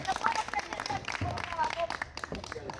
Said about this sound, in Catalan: un fort aplaudiment per Ignacio, que ha guanyat el torneig